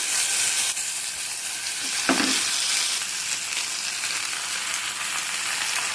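Vegetable pieces, from a pea and cabbage dish, fry in hot oil in a pan, giving a steady, loud, close sizzle throughout with one brief crackle burst partway through and no talking.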